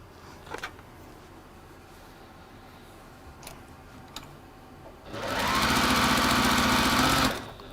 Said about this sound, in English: these seams get sewn together in no time